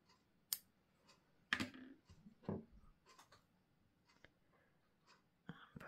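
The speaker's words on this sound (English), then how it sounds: "and then you can cut your yarn" A pair of scissors snips through crochet yarn after a slip stitch in a granny square; two or three faint, short clicks stand out against a very quiet room.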